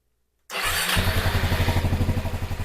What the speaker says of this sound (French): La moto elle tourne impeccable. Elle prend ses tours nickel.